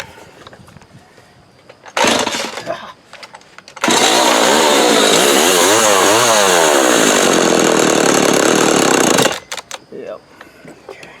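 A McCulloch FR2.0 chainsaw engine fires briefly, then roars into a loud, steady run that swells and falls in pitch as it is tuned toward idle, before cutting out, with someone talking around it.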